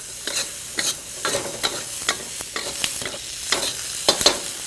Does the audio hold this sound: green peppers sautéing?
yes